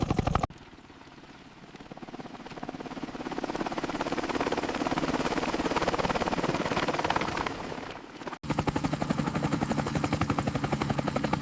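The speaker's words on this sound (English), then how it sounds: "Occasionally, helicopters are summoned to rapidly survey" A helicopter flies over a vast rugged wilderness, producing a steady rotor drone with a dense, constant rumble that holds at moderate level throughout, with no talk.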